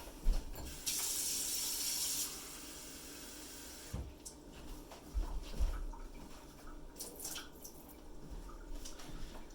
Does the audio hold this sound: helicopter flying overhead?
no